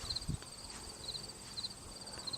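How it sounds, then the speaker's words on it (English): Crickets chirp in quiet, repeated high-pitched trills outdoors in a pumpkin garden, soft and steady, with a small bump of handling noise near the start. "Back here, I hear the crickets."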